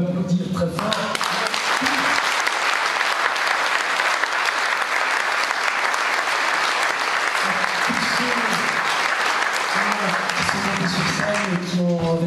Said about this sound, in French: merci surtout à Pierre Mazot qu'on peut applaudir très fort.